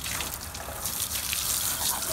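A water hose sprays steadily on a dusty work area during a headlight conversion on a 1999–2004 Ford Super Duty truck, a loud continuous hiss of gushing water with no pauses.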